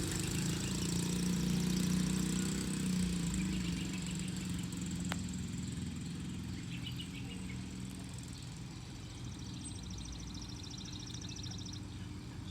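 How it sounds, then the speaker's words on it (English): A dirt bike engine idles as it warms up, a steady mid-pitched rumble that holds at an even level for the whole stretch, with no one talking over it. "Just warming up his dirt bike."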